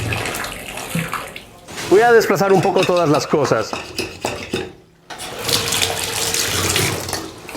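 Hot water from a tap runs into a sink drain treated with baking soda and vinegar, a loud splashing rush that stops briefly and resumes, with a person speaking over the early part.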